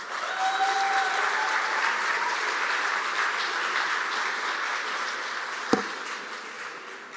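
An audience at an executive MBA commencement applauds in a steady, dense wash of clapping that holds for the whole stretch, with a single sharp knock near the end.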